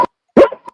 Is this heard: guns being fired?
no